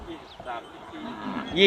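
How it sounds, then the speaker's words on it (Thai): A 14-month-old male Thai water buffalo at the Nong Ruea livestock market gives a drawn-out low moan that swells and grows louder toward the end, heard close and alone. "ควายตัวนี้เป็นควายผูอายุได้14เดือนนะครับ"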